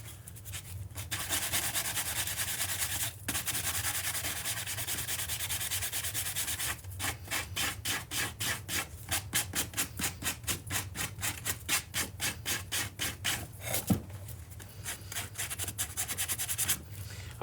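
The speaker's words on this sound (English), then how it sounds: "I'm getting another sanding block." Sanding a wooden clock case by hand with a sanding block: close, loud rhythmic rasping strokes, continuous at first, then distinct back-and-forth passes, with no talking.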